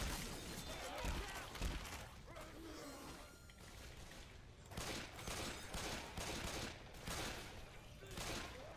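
Left 4 Dead 2 gameplay with dense bursts of gunfire, rapid clattering shots and mechanical weapon noises in repeated volleys, played under a person talking.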